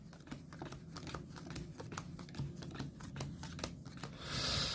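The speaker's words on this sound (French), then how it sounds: "Je voudrais bien mélanger mon deck, là." A deck of Dominion game cards is shuffled by hand at close range, a busy run of quick riffling and clicking snaps, ending in a brighter burst of card noise.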